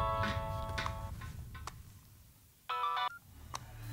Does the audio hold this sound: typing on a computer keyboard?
no